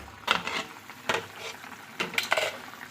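A lid comes off a pot of simmering curry with papaya and potato, giving a few close metallic clanks and scrapes against the rim over a soft bubbling background.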